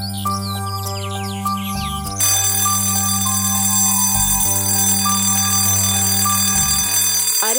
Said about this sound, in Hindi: कम से कम अलार्म तो बंद कर दे